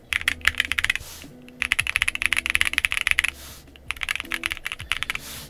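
Mechanical keyboard fitted with Gazzew U4T tactile switches typed on up close, fast bursts of crisp clacky keystrokes in runs separated by short pauses, with no talking.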